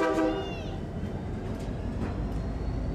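A train rolls along tracks in downtown Modesto, with a brief horn-like tone at the start followed by a steady rumble of wheels and rail cars passing at moderate distance.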